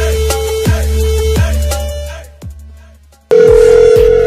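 A telephone line gives a steady dial tone, broken by a few short clicks and tones as the line drops briefly quiet, then returns loud and continuous before a call connects.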